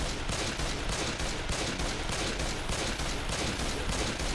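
Relentless gunfire in Left 4 Dead 2, a dense, unbroken barrage of rapid shots at steady loudness with a rhythmic pulsing texture throughout.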